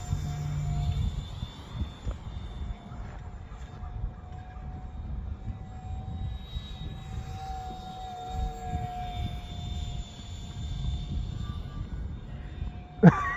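A J35 brushless electric ducted-fan RC jet in flight gives a steady, thin whine that rises and falls as it moves through the sky, fairly distant over a constant wind rumble.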